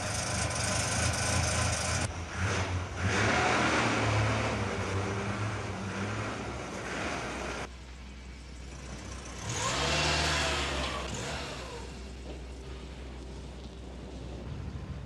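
A 1967 Audi 90 Super car engine cranks and catches after about two seconds, then runs with a steady idle, revving up briefly midway before settling back down.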